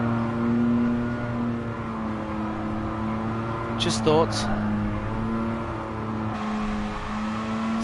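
A Mazda RX-7 rotary engine in the Gran Turismo Sport racing game holds a steady, buzzing drone throughout, with someone talking over it.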